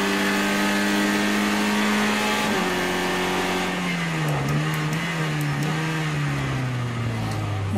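A sportscar engine from Project CARS 2 drones steadily on a warm-up lap in a Sportscar Lites race, pitch dipping and rising as it shifts and eases through corners, loud and continuous with no talk.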